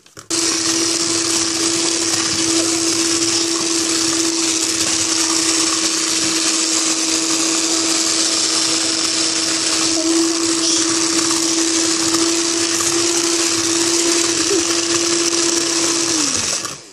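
An electric mixer beats yogurt for chocolate muffins with a steady, loud, close whirring drone that holds constant for the full stretch and winds down at the very end.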